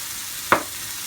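Assorted nuts (no peanuts) are stirred in a hot frying pan: a steady low sizzle with one short, sharp scrape of the stirring midway, no voices.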